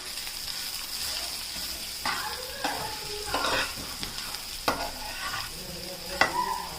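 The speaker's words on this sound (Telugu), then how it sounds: "వేగిన తర్వాత కారం వేసి కలపాలి." Bitter gourd frying in a pan with chilli powder being stirred in, a steady close sizzle broken by repeated scraping stirs of the spoon against the pan, with no voices.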